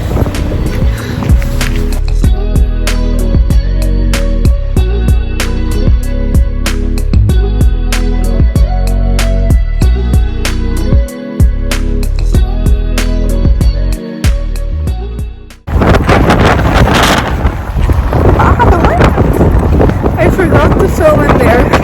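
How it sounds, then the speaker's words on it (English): Cold outdoor wind buffets the microphone in strong, continuous rumbling gusts, with rhythmic patterned noise in the first part and heavier broadband wind roar near the end. "It's the wind, it's killing me."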